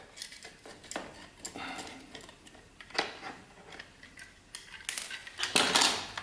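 A small metal washer drops during a DINGO modification: a series of light metallic ticks and clinks scattered across the clip, growing a little louder toward the end, with no talk.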